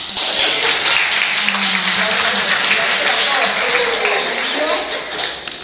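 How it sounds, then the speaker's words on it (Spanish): Audience applause at an explanatory talk by an interdiocesan tribunal, a loud burst of clapping that continues steadily and then tapers slightly near the end, with voices audible underneath. "un aplauso para ellos"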